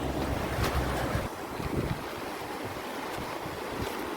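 Flooded river at Hanumangadh in heavy rain, a broad, constant roar of rushing water with heavy low rumble at first, then a steadier hiss, close and loud, wind buffeting the microphone, no talk.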